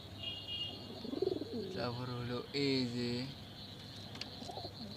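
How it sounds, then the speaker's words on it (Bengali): Several pigeons of one bloodline, kept together in a loft, give low, soft, repeated cooing. It sounds steady and fairly close, under a voice talking. "সব একই বেলাডের কবুতর"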